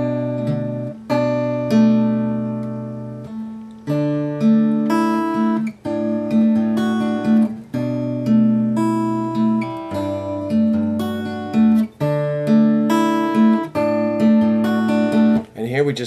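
An acoustic guitar plays a repeating picked pattern for a song, with steady arpeggiated notes over a low bass and regular restrikes of the chord shape, clear and close with no talking.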